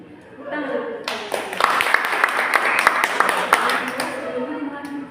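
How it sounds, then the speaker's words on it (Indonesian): Children in a classroom break into clapping after a short stretch of talk, building to a busy burst of hand claps mixed with voices that fades slightly toward the end. "Tepuk tangan."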